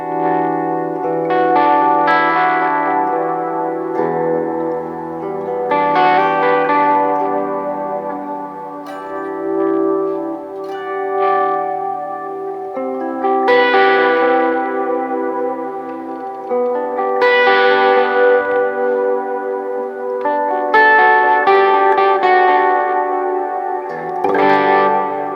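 An electric guitar run through reverb, delay and a slight amount of gain rings out in clean, shimmering chords and notes with long echoing tails, played steadily and loud for about twenty-five seconds with no talk.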